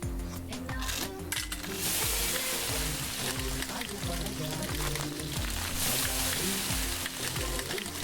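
Spices toasting and frying in a pan in the cooking game Venba, a steady sizzle running under layered background music, with no clear pauses throughout.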